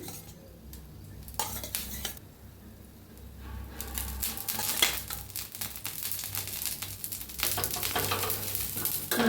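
Fish frying in oil in a pan makes a close, steady sizzle that swells louder after a moment, with metal clinks and scraping of utensils over it.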